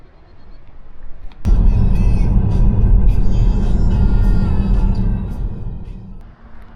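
A vehicle on a Norwegian mountain road starts suddenly and rumbles loud and close for several seconds before fading away.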